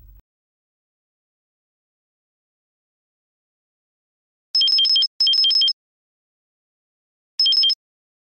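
A telephone rings in short electronic warbling trills, three close bursts separated by silence, in a quiet room with no talk.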